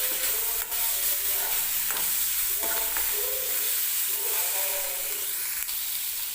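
Tomatoes frying in a pan with onions for a simple matar paneer, a steady hiss and sizzle throughout with a few faint scrapes of stirring, fairly quiet and close, no talking.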